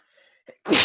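One person gives a single loud sneeze, a short breathy intake and a catch, then a harsh, noisy burst that ends the moment.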